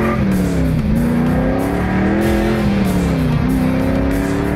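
A cheap used sports car accelerates hard along a dead-straight Kansas road, its loud, close engine note climbing in pitch, dropping back at two gear shifts and climbing again, with no voices.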